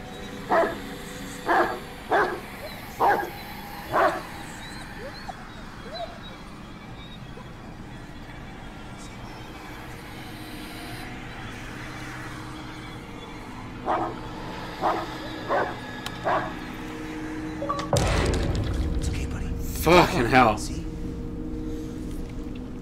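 A dog barks in the horror game Blair Witch: a run of five clipped barks, a pause, then another cluster of barks, with someone talking quietly in between.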